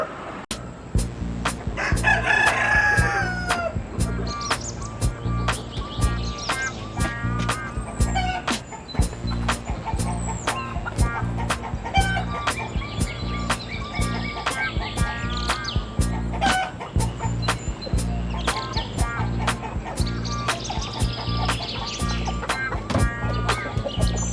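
Backyard chickens and roosters in a muddy chicken yard after rain crow and cluck continuously, with several overlapping calls near and far over a steady, busy background.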